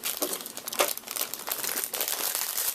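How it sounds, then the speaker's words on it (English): Plastic packaging around a spare Molex power connector for a graphics card installation being cut open from the top, giving steady close crinkling and crackling with short tearing bursts and no talk. "I'm going to cut it open from the top."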